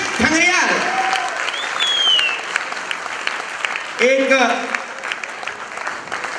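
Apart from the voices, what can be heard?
audience applause after a play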